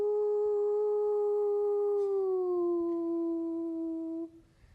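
A voice imitates a passing train's Doppler effect, holding a steady humming tone that slides down in pitch partway through and then cuts off.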